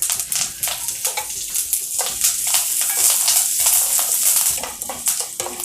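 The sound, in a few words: dal, dried chilli and curry leaves roasting in a pan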